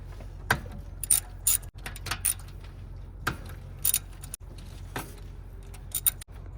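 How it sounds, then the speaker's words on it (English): A ratchet wrench with a 13/16 socket clicks in short, quick bursts of rapid pawl ticks, close and crisp, with brief pauses between strokes, on a 1993 Thundercat. "Got our wrench, 13/16 socket."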